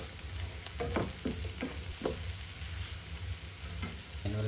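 Garlic and onion frying in a pan for a buttered-garlic vegetable and shrimp dish, a steady close sizzle with a few soft stirring scrapes and clicks against the pan, no voices.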